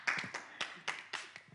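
Several sharp, separate claps ring out across a short moment, irregular and moderately close, as someone applauds from home in honour of all the fathers during a live show.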